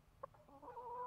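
Backyard chickens give a short, faint clucking: one sharp cluck followed by a softer, drawn-out murmuring call, heard close by in a quiet setting.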